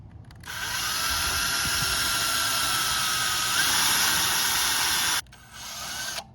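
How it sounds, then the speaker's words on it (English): Power drill boring pilot holes while fitting an RV sway bar storage bracket: a steady high whine running about five seconds, a brief stop, then a second shorter burst, close and loud. "Now I'm gonna drill a couple pilot holes."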